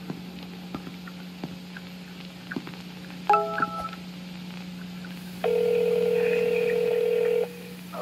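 A phone number is dialed on a phone in the Roblox game Midnight Burger: a quick cluster of short keypad tones, then one longer steady dial tone, over a low constant hum and faint ticking background.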